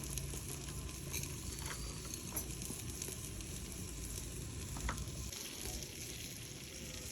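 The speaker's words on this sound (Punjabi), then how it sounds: "ਥੋੜਾ ਜਿਹਾ ਭੁੰਨ ਲਾਂਗੇ ਇਹਨੂੰ ਹਲਦੀ ਦੇ ਕੇ" Mutton browning with turmeric in a pan, a faint, continuous sizzle and crackle with a few scattered stirring ticks, steady and low in level, no voices.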